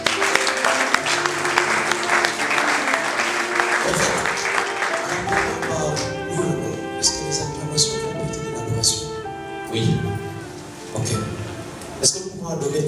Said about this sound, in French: Est-ce que nous pouvons acclamer encore?